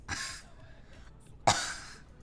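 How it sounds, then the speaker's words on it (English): Two sharp coughs, about a second and a half apart, close to the listener in an otherwise quiet room. "I'm coughing too much."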